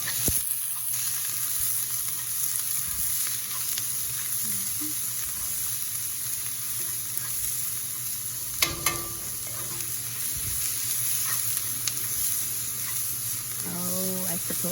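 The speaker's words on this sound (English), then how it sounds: "And now I'm gonna add in my onion first." One whole onion frying in a pan: a long, steady hissing sizzle with occasional clicks and scrapes of stirring, and a brief voice near the end.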